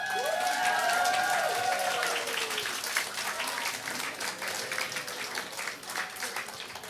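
Applause from a gala audience at a justice celebration, thanking an organization's staff, opening with a burst of clapping and a few whistles, then thinning gradually over seven seconds.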